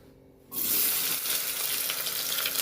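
Onions drop into hot oil in a pan and start frying, a sudden loud broadband sizzle that holds steady after a quiet start.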